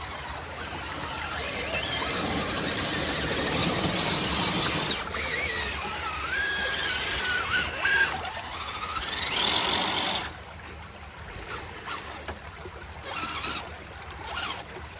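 A dual-motor RC crawler whines with a high, shifting electric motor squeal that rises and falls in bursts, cut with pauses and handling noise outdoors near water.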